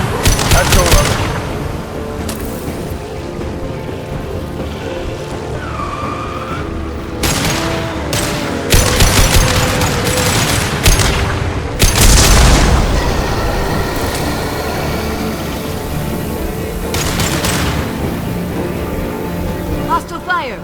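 Combat gunfire in Mass Effect 2, loud bursts of shots and heavy impacts going off in clusters, with voices calling out between volleys.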